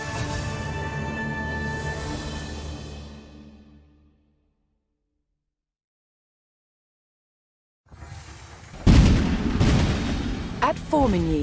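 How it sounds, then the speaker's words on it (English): Cannon fire in a medieval Age of Empires 4 cutscene about the Battle of Formigny in the Hundred Years' War: a low rumble fades to silence, then several loud booming blasts erupt in quick succession with crackling echoes. "At Formigny, the roar of cannon fire sounded the death knell for England's ambitions in France"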